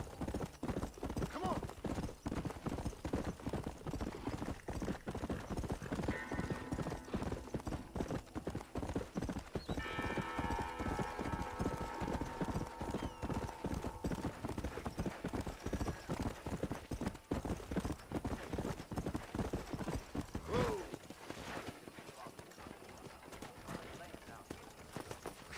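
Horse hooves clip-clop steadily in Red Dead Redemption, a continuous close rhythm of hoofbeats lasting throughout, with someone talking over it and music swelling in the middle before the hooves slow near the end.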